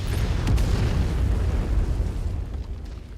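Artillery explosions in MechWarrior 5 land as a loud, deep, rumbling boom that rolls on for several seconds and slowly tails off, with no voices over it.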